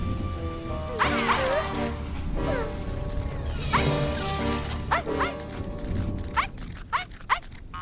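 Small puppy barking in short yips and bow-wows, scattered irregularly over a steady rush of rain.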